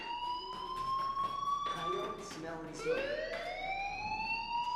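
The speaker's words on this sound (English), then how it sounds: "Hey, do you hear that fire alarm?" Steady electronic fire alarm tone in the video game Life is Strange, a high wailing pitch sliding slightly up and down, loud and continuous with a voice talking over it.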